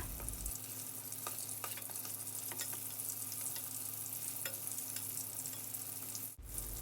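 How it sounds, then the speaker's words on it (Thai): Battered champedak pieces deep frying in hot oil, a steady dense sizzle with scattered crackles and pops, continuous and fairly close, ending with a brief dip near the end. "พอแป้งเริ่มกรอบเหลืองก็พลิกกลับด้าน ทำอย่างนี้ไปเรื่อยๆ จนเสร็จเลยนะคะ"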